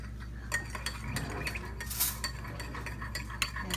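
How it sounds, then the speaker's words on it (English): A utensil stirs a homemade slime mix of water, borax and purple colouring in a bowl, steady scraping and clinking strokes close up, continuous with no talk. "And 1 tablespoon of the borax. You stir this up."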